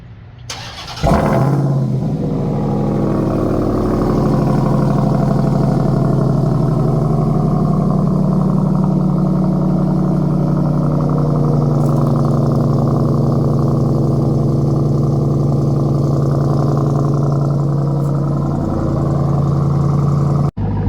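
2023 Ram TRX with an AWE exhaust doing a warm start: a sharp crank and catch, then a loud, steady deep idle rumble that holds for about twenty seconds before cutting off, with no talking.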